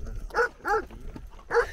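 A dog barks three times outdoors near farm fields, the sharp barks fairly close, with two coming in quick succession and the third after a short pause.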